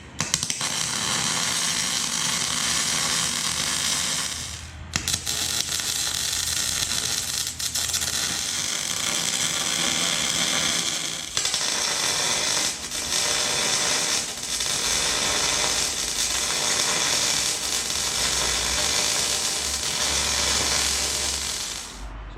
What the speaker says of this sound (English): So let's stitch weld. Let's just get a few tacks on it.